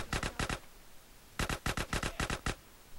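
Submachine gun fire in GTA San Andreas: a couple of quick short bursts, a pause, then a longer rapid string of sharp shots, close and punchy.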